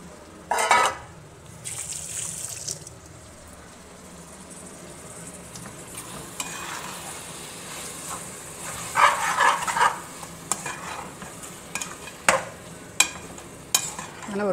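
Marinated mutton masala fries on a high flame, a low steady sizzle running beneath a string of sharp scraping clatters as a spoon stirs the pan, close up and without speech.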